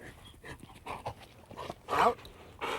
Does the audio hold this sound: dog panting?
yes